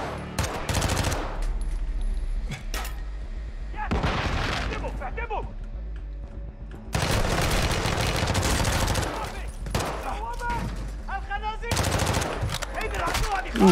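Bursts of submachine gun fire in the Call of Duty Modern Warfare 2 (2022) campaign, loud clattering volleys broken by short pauses, with game voices speaking in between.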